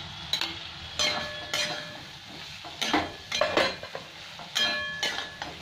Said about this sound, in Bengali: আর একটু ভেজে নিই সবজির সাথে মশলাটা, ভালো ভেজে নিলাম সবজিটা।